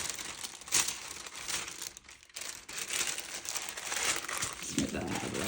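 A paper sewing pattern for a summer dress is folded in half, giving steady close crinkling and rustling with a few sharper crackles. A voice talks alongside it.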